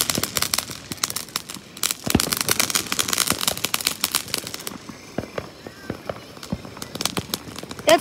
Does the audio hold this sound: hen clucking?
no